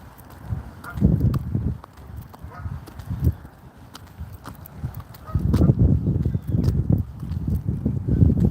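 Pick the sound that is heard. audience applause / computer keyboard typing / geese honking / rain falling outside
geese honking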